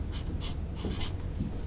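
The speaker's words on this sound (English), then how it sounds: "I'm going to write on here" A marker squeaks across the surface of a new buffing pad in a few short, close strokes separated by brief pauses, with no speech.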